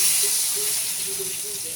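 Water poured into a hot pan of hilsa fish curry with tomato gives a steady, close hiss of steam and sizzle that holds evenly throughout.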